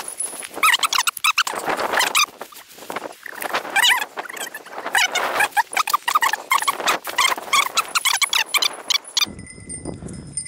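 A hunting dog on a small game hunt whimpers and squeals in rapid, uneven bursts close by, with rustling movement between the cries.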